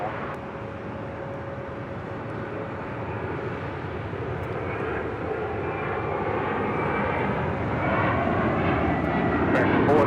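An American Airlines jet taking off from runway 25 right at LAX, a loud broadband engine roar that swells steadily as it accelerates, with radio chatter faint in the background.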